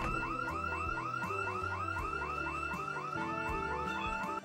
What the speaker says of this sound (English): the house alarm kicks in.